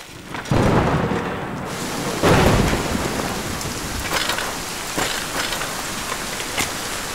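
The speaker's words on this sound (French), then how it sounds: "Il pleut assez fort." Heavy rain pouring steadily as a dense hiss, with rolling thunder rumbles swelling loud near the start and fading into the downpour, no talking.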